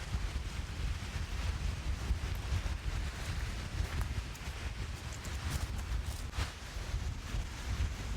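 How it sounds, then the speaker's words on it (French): Strong wind gusting over a mountain lake in Canada, a loud continuous roar buffeting the microphone throughout with rumbling low-end noise and occasional sharper gusts, no voices. "Mais il y a un vent de malade, parce qu'en fait, avec les montagnes, ça fait comme c'est des couloirs de vent"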